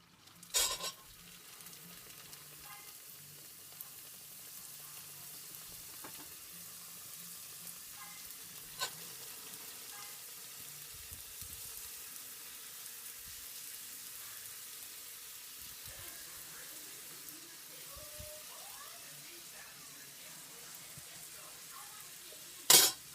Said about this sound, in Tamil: அதில் தேய்ச்சி வச்சுருக்க பூரியை எடுத்து போட்டு ஃப்ரை பண்ணி எடுத்துடணும்